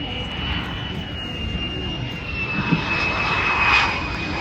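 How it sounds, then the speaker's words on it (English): An F-35 fighter jet of 77 Squadron rolls out on the runway after landing with aerodynamic braking at an evening air show, its engine a steady loud roar with a high whine throughout. "As that 2 OCU F-35 rolls out."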